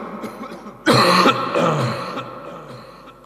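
A single loud cough with a throat-clearing rasp comes from a preacher with a sudden cold during an Islamic sermon, preceded by a faint hum and followed by a short fading tail.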